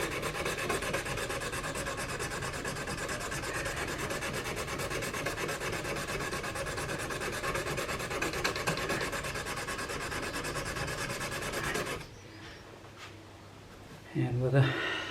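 A knife blade hand-sanded with abrasive stones, a continuous close rasping rub with steady back-and-forth strokes, then a quieter stretch near the end with faint handling sounds.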